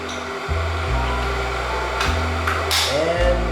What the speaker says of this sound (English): The grinder we're using today is the King Grinder P1.